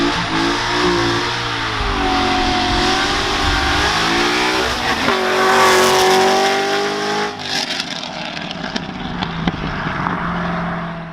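A modified 2009 Chevrolet Corvette Z06 with full bolt-ons and a cam, its V8 loud and close, revving in rising and falling sweeps before dropping into a rough, lumpy idle.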